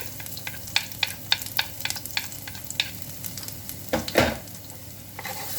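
Chopped garlic hits hot oil left in a skillet after cooking shrimp and sizzles steadily, with repeated sharp clinks of a utensil stirring against the pan and a louder scrape near the end, close and without speech.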